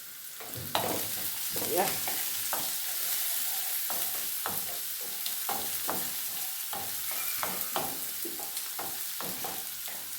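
Onions fry in a pan with a steady close sizzle, broken by a dozen or so sharp scraping clicks as they are stirred; one short word is spoken.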